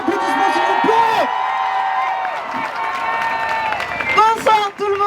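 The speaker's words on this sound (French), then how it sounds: "faites un tonnerre d'applaudissements s'il vous plaît" A crowd at a rally against transphobia claps and cheers, with whoops and voices rising over steady applause that swells again near the end, loud and close.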